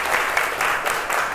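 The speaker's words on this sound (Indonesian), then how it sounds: "Tepuk tangan" A classroom of students claps in brief uneven bursts, a moderately loud patter of many hands close by.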